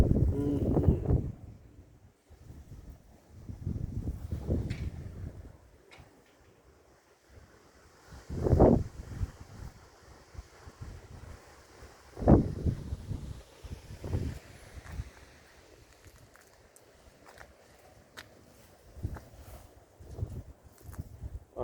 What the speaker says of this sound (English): It's still so windy.